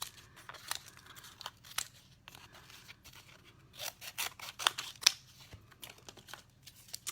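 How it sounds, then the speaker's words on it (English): Scissors snip repeatedly through craft roof tile material for a small model house, with quiet, irregular cuts and crinkling paper, close and soft with no talking. "Chopping roof tiles."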